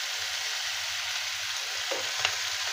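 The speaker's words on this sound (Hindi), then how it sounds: "तो अभी टमाटर को अच्छे से गोल्डन ब्राउन होने तक भून लेते हैं।" Tomatoes fry in a pan while being browned for a restaurant-style okra dish. A steady, even sizzle holds throughout, with a low intermittent rumble underneath and a faint clink near the end.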